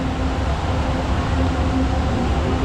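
A train rumbles steadily nearby with a constant low roar and a faint whine, pulling away from Ligarda Station in the evening.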